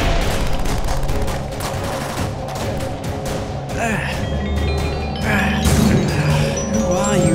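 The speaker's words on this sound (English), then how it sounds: "They're shooting us!" Dense, loud bursts of gunfire rattle almost without pause in the video game GTA 5 during a zombie outbreak, with crashing impacts mixed in and a voice speaking amid the noise.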